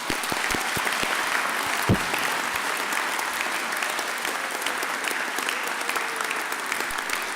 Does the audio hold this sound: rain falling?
no